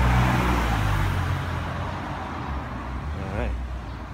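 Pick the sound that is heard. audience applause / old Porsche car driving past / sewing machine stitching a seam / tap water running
old Porsche car driving past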